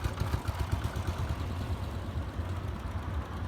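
A Royal Enfield Bullet 350 motorcycle engine runs close by in gear, rumbling low and pulsing unevenly as it gently revs, with some mechanical clatter and no voices.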